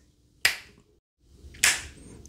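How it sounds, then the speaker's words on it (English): Two sharp finger snaps, about a second apart, each a crisp isolated crack close to the mic against quiet background, with no talking. "I'm just going to snap my fingers"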